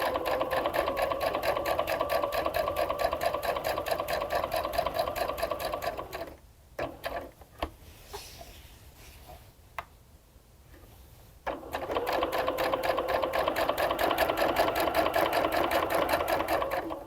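A sewing machine stitches a star appliqué onto a pillow with a fast, even mechanical whir, pausing for several seconds at a corner pivot with a few clicks before running steadily again.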